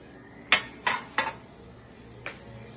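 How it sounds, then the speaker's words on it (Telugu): A metal kadai set down on a kitchen stove makes three sharp clanks close together, then a fainter knock a moment later, over quiet room hum. "ఇదిగోండి, స్టవ్ నుంచి కడాయి పెట్టుకున్నాను నేను."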